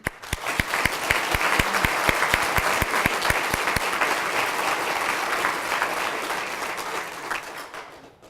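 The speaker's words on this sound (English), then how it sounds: "we're going to get a round of applause for all of our sponsors" Audience applause at an Educators of the Year awards event honoring school sponsors, a dense sustained clapping with sharp individual claps standing out early, then slowly thinning as it fades.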